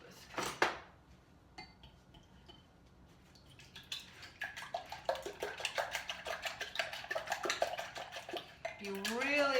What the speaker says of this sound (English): We're gonna crack 3 eggs into my bowl / measuring cup thing that I use. And really whisk those up.